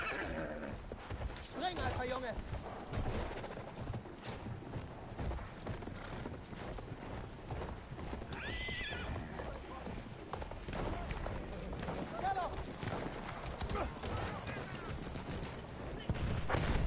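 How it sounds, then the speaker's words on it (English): A horse gallops in the Battlefield 1 video game, with quick clip-clop hoofbeats and a whinny mixed into a busy battle soundscape of gunfire, while a player talks over it. "let's get a horse"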